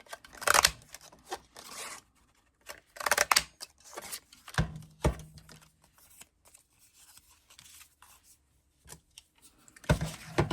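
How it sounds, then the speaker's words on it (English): Scissors snip repeatedly through paper scraps to cut out small tabs, crisp cutting strokes arriving in irregular bursts with short pauses between, close and fairly loud with no talking. "I thought I could get some tabs cut out of these scraps."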